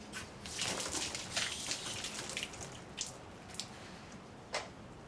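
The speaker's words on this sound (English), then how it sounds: "let me wash my hands" Hands are washed under running tap water indoors: a soft, steady splashing hiss with a few wet squishes and drips near the end, fairly quiet and close.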